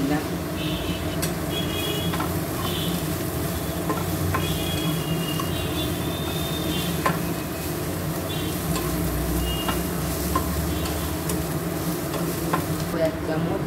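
Sesame seeds, cumin and coriander dry-roasting in a pan with a constant crackling hiss and the scrape of stirring, close up, over steady background noise and intermittent beeping.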